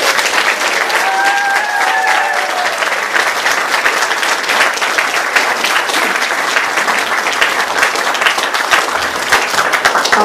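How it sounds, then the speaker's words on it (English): Loud sustained applause from a pantomime audience, dense clapping filling the room for about ten seconds, with a few brief voices or whistles early on. "we should give them an amazingly loud, rapturous applause"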